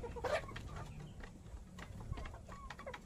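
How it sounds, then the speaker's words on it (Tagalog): Chickens cluck softly in a farm setting, a few short scattered calls over faint background rustle and low ambient noise, quiet and somewhat distant, with no talk. "Tingnan nyo tong manok na to."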